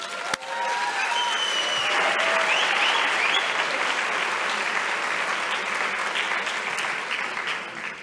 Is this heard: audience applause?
yes